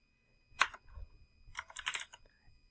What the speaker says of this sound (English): Now I'm going in here and typing in my answer.